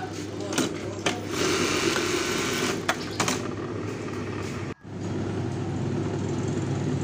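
A Simaru 781 buttonhole sewing machine runs with a steady mechanical whir and rattle that stops abruptly near the end, then resumes. Faint talk may sit under it.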